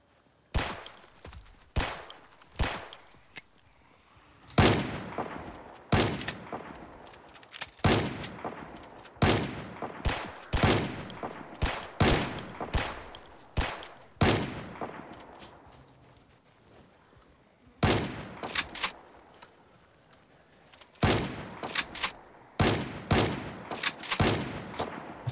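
Gunfire in the zombie survival game Project Zomboid rings out as sharp, loud shots, some single and some in rapid bursts, scattered irregularly with quiet gaps between.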